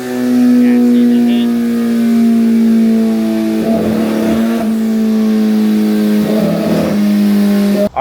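A Kawasaki ZX-14r motorcycle fitted with a stage 2 turbo kit idles loudly with a steady engine drone on high boost, then gives two sharp rev blips a few seconds apart before cutting off.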